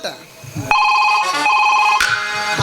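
During a Kannada stage drama, a phone ringtone cuts in after a brief quiet moment and rings loud and steady with repeating tones to the end.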